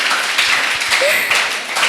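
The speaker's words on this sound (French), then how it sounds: "Sous vos applaudissements, s'il vous plaît." Audience applause at a panel discussion fills the whole moment, a dense, loud, continuous patter of many hands clapping close by, with a brief voice slipping through partway.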